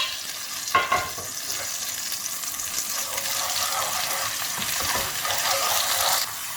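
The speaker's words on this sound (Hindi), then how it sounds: "इसमें मैं अदरक लहसुन का पेस्ट डालूंगी और तकरीबन 30 सेकेंड उसको भी फ्राई कर लूँगी।" Steady, close sizzle of ginger garlic paste frying in hot oil, with a couple of quick stirring clacks near the start, no one speaking.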